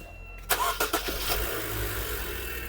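A car engine cranks with a few sharp starter bursts, catches and settles into a steady idle, close by, in a vehicle that has gone long neglected and has rat damage.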